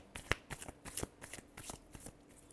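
Tarot cards are riffled and shuffled by hand in a brisk run of soft, crisp flutters and taps, close and fairly quiet with no talking.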